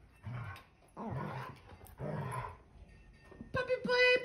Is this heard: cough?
no